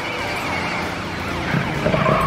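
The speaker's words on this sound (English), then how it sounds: "Police car to the rescue!" A cartoon police car siren wails in rising and falling sweeps for about two seconds, loud and close over a busy background.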